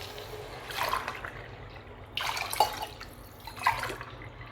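Water poured from a cup into a pan for avarekalu uppittu, about three and a half cups in faint, splashing bursts that swell and fade in three separate pours.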